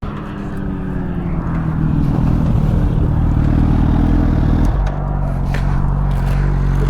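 Two sport motorcycles, a Suzuki Hayabusa and a BMW S1000RR, ride past on a street, a loud, steady engine drone that swells and then drops in pitch as they go by.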